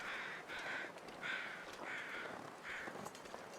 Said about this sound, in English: Birds overhead.